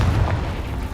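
Confringo blasting spell explosion in the video game Hogwarts Legacy: a loud, deep boom with heavy low rumble lasting about a second, no talking.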